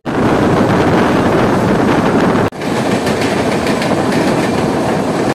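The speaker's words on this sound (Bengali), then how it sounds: "আমাদের 2 নম্বর ট্রেন দাঁড়িয়েছে" Darbhanga Maithili Express at Bidhannagar station, a loud continuous rolling rumble of the train with dense wheel clatter and wind buffeting the microphone, briefly cutting out midway before resuming just as loud.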